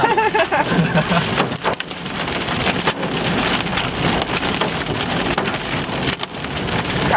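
Hail pounds a car during a storm chase in the Mississippi Delta, a dense, steady roar of hard pellets drumming on the roof and body with sharper louder impacts scattered throughout, close and loud.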